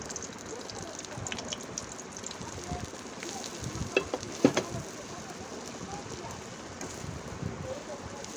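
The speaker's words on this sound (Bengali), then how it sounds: "তো আলু ভর্তাগুলো যেগুলো মেখে রাখছি ওগুলো এখন তেলে দিয়ে দিব। উল্টিয়ে পাল্টিয়ে নিয়ে নিব ভালো করে ভেজে।" Mashed potato frying in oil, a soft continuous sizzle and crackle heard from close by, with a few sharper pops and scrapes partway through and faint background sounds.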